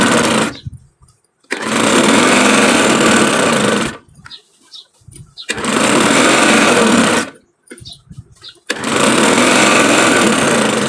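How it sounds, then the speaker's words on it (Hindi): Sewing machine stitching elastic into a salwar waistband: three long, loud runs of steady mechanical whirring, each broken by short pauses with faint handling noises, no talk. "देखिए जहाँ से हमने सिलाई स्टार्ट की थी वहीं पे आके हमने एंड कर दिया है"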